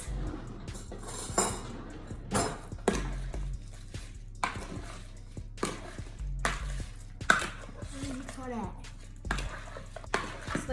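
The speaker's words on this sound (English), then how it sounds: "And now we mix." Cajun shrimp boil seasoning is mixed with Old Bay in a kitchen, giving repeated clinks, taps and scrapes of a utensil against a bowl, with speech between them.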